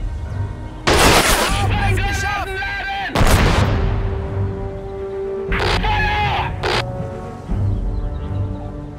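Gunfire in the Men of War Assault Squad 2 video game, loud booming shots and crackling bursts with echoing tails, repeated several times, alongside a tonal game sound.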